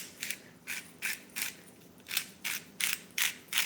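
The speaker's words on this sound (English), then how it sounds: "Pepper. Grind it. It's fresh because you're grinding it, obviously." Pepper grinder cracking fresh peppercorns in a kitchen, eight or nine crisp ratcheting grinds in a steady rhythm, close and clear.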